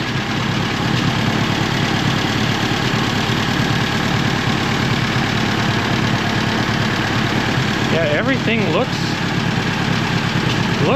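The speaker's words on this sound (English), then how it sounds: "And its engine sounds nice." A Volkswagen Beetle with a frozen, cracked transmission idles at a steady, loud, close-up chug, and someone speaks briefly over it near the end.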